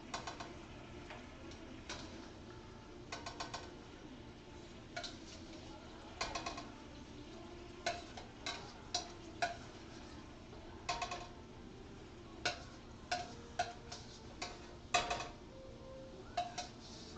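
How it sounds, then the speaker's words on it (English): Chicken stir fry scooped from a pan into a bowl while oil is shaken off, a quiet run of repeated clacks and taps of a utensil against cookware at irregular intervals, close and without speech. "So now I'm just gonna scoop it out and put it in a bowl and set it off to the side."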